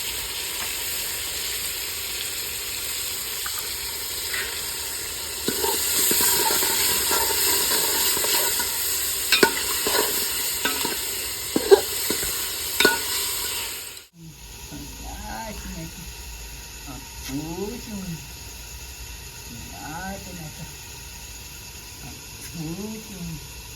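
Hand-crushed ginger and garlic fry in a pan for a home-style mutton dish with soaked dried chillies, giving a fizzing sizzle broken by clanks and scrapes of stirring, then quieter frying under faint background voices.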